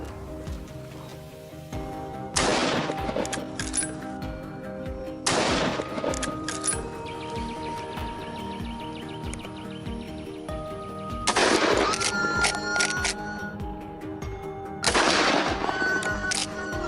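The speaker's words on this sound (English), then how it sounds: "Without hesitation, a gunshot rang out, neutralizing the threat in an instant." Several sharp, loud bursts of gunfire ring out in separate clusters during a wild boar hunt, each followed by ringing decay over a steady outdoor background with birds.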